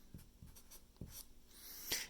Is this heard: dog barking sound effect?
no